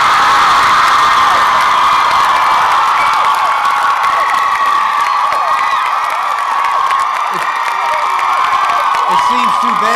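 A large crowd cheers loudly and continuously at Columbia University's 2001 commencement for Barnard College graduates, a dense roar of shouts, whoops and whistles with no pauses.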